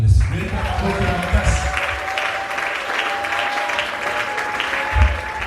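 A church congregation claps during a sermon on the gospel: sustained applause fills the clip at moderate loudness, with a voice talking and tones ringing over it.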